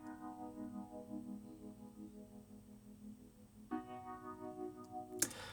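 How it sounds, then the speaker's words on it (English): Wobbly vibrato-and-phaser electric keys play sustained chords for an R&B beat built in Studio One 5, with a chord change midway and a brief bright swell near the end, steady and fairly quiet with no voices. "duplicated this MIDI over to some like whirly vibrato phaser keys, which sound like this."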